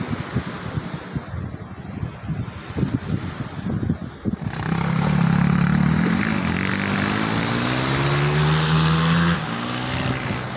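Rally jeep at a jeep rally event, approaching with a rough engine rumble and wind buffeting, then passing close by with a loud, sustained roar that shifts pitch as it goes.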